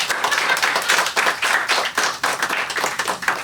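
Audience at a live musical stand-up comedy show claps for the performer's private security staff, a dense, steady burst of many hands close by, alone without talk.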